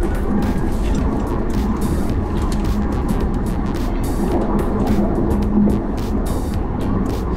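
Porsche Taycan Turbo electric car driving, a steady broadband whir of road and wind noise with a faint tonal hum, continuous and fairly loud, no talking.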